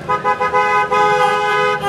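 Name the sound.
car horns honking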